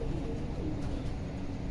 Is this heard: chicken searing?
no